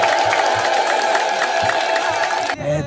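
A crowd celebrates the return of a church tabot, its ululation and cheering filling the air in a steady, loud wash of voices. A sharp change near the end brings a brief closer sound.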